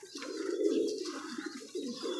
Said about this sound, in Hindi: ये कबूतर भी बड़े शौक़ से खाते हैं।